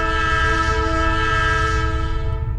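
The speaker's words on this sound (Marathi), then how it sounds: "त्यांनी लगेच रेल्वेचं हॉर्न होतं तो मोठ्यान वाजव घेतल्याने" A train horn blares in one long, loud, sustained chord, close by and continuous over a low rumble, at night.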